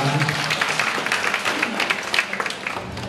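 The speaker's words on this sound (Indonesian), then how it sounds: "Kita beri tepuk" A gathered crowd applauds volunteers, a dense patter of many hands clapping steadily throughout, moderately loud and rising slightly toward the end, with a voice briefly audible at the start.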